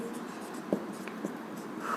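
Marker or chalk writing on a classroom board during a geometry and mean lesson, a steady light scratchy stroke sound running throughout with one brief tap, fairly close and alone.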